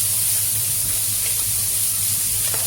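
Rice stirred into a hot pan with shrimp for Chinese fried rice gives a steady, close sizzling hiss that runs throughout.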